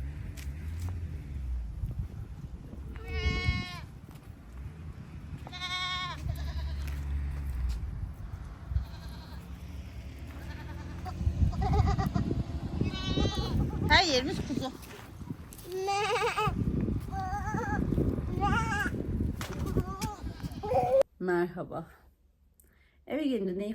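Lambs bleat repeatedly in high, wavering cries, close and loud, with people talking in Turkish over them and outdoor background noise, in Siirt, Turkey.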